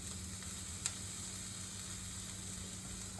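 Five slices of bread sizzle in a frying pan for a quick breakfast, giving a steady faint crackling hiss with one small sharp pop, and no talking.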